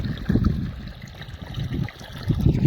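Irrigation water flows into a field channel on a farm with a continuous close gurgle and trickle, swelling and easing slightly, with no voices.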